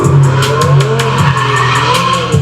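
A race car driven hard, tires squealing and skidding loudly and continuously while the engine drones close by, with rhythmic pulses through the squeal.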